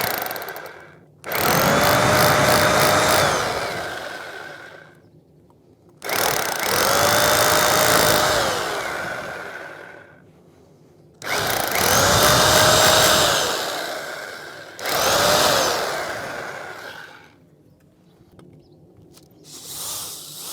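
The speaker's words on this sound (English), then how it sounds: "I will put a smaller drill for the moment" A power drill bores holes into a wall for mounting a key locker, running in four long, loud, close bursts of whining, grinding drilling separated by short silent pauses.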